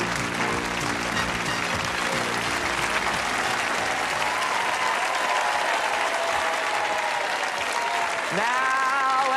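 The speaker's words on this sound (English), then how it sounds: "Let's give them all a nice round of applause." Game show studio audience breaking into sustained applause, loud and continuous, with music tones over the clapping at the start and again at the end.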